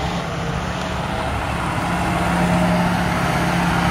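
A large farm tractor engine runs steadily and fairly close, with a low continuous drone and rumble that stays level and slightly builds toward the end.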